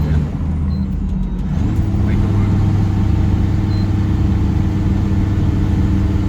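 A Mercedes Unimog camper's engine strains uphill in a loud, steady low drone that deepens and thickens partway through, heard from inside the cab.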